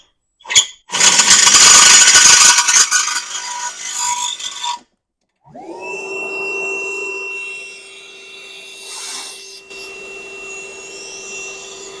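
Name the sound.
vacuum cleaner running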